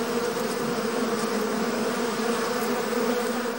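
Honeybees at an artificial hive make a dense, steady buzzing drone that holds close and even throughout, with no voices.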